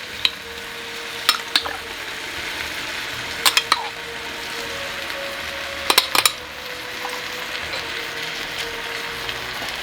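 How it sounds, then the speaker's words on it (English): Chili peppers and roasted red peppers sizzle with onions in a pan, a steady moderate frying hiss broken by a few sharp clinks of a utensil against the pan in small clusters. "Alright, so now I'm going to add in the chili peppers."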